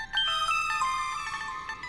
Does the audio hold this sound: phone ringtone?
yes